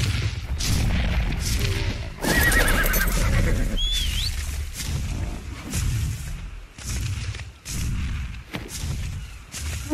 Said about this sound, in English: There's a lot of horses here.